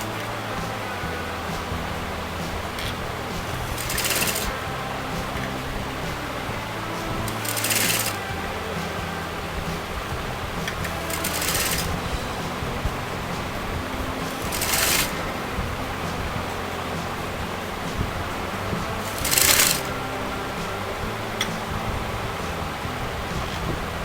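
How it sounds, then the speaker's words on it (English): A sewing machine stitches folded bias-cut orange piping onto the neckline of a kurta, running in steady mechanical bursts with short louder pulses every few seconds, close and alone without talk. "So just take a bias fabric and fold that in half and place it exactly at the starting point of the fabric, and I'm going to sew that together."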